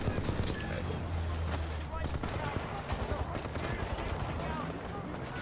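Rapid automatic fire from the Flatline rifle in Titanfall 2, dense, close bursts of gunshots running nearly continuously under a player's talk.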